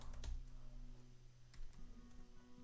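Someone types on a computer keyboard while writing Python code, producing a few quiet, scattered key clicks over a low hum.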